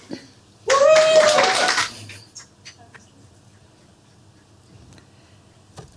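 At an annual association meeting, a short, loud burst of audience clapping lasting about a second includes a high vocal whoop, followed by a few sparse, scattered claps in a quiet room.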